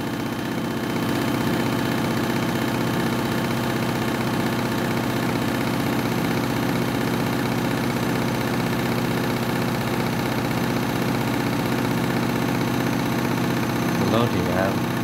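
An overloaded washing machine on its final spin gives a loud, steady droning whir with layered humming tones that holds for the whole stretch, then a brief rattling knock near the end.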